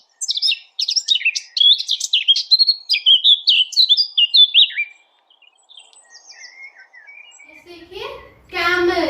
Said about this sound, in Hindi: बर्ड्स जो है वो चिर्प करती हैं, मतलब उनकी आवाजें जो होती है वो ची ची की होती हैं